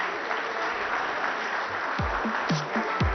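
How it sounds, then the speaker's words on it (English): A crowd at a business CEO awards ceremony gives sustained applause, dense clapping filling the hall, with a few short shouts or cheers rising near the end. "A huge round of applause"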